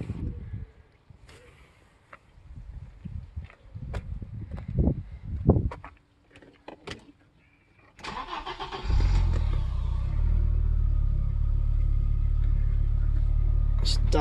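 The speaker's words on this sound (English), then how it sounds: "I'll fire the car up for you now, so you can see the car running from cold." An Audi URS6 with the 2.2 AAN engine cranks from stone cold and fires after clicks and brief handling noises, then settles into a steady, loud idle; a voice is heard early on.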